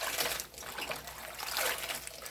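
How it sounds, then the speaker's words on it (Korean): Water trickles and splashes steadily as chopped napa cabbage is rinsed, a soft, continuous, close wash of running liquid. "썰어놓은 배추는 이물질이 있을 수 있으니까 물에 깨끗이 씻어서 물기를 뺀 다음에"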